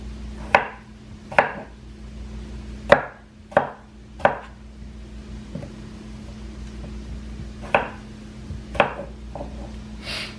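A knife chops raw shrimp on a cutting board during an Iron Chef-style shrimp challenge. About ten sharp, close knocks land at an uneven pace, some in quick pairs, over a low steady hum.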